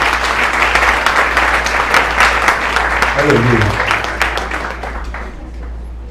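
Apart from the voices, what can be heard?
congregation applauding in church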